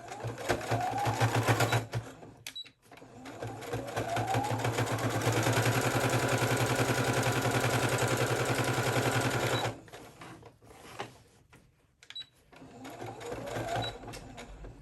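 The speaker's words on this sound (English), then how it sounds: "I'm just going to go ahead and do a top stitch now." Sewing machine running steadily while top stitching blouse fabric, a long continuous whirring run of stitching with short pauses and restarts, close and fairly loud, no talk over it.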